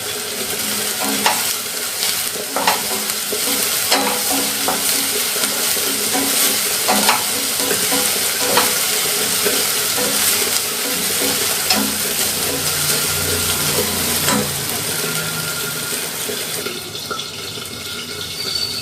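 Onions sautéing with salt in a pan, an even loud sizzle overlaid by repeated scraping and stirring strokes of a spatula, close up and sustained with no speech.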